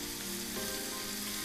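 Shrimp sizzle and fry steadily in a hot pan, a dense, even crackle that runs close and loud throughout with no voices over it.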